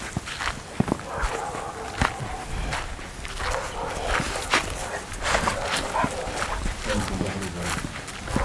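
A dog barks on a pig farm in short, scattered yelps amid footsteps and shuffling nearby, while people talk throughout.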